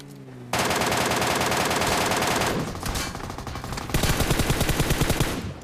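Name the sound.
gunfire in a battle royale video game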